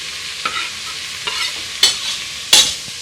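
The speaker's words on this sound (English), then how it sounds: "I'm just going to give that a stir." A spoon stirs vegetarian chili with jalapeno in a pot, giving four scraping clinks at irregular intervals, each louder than the last, over a low steady simmer with no voices.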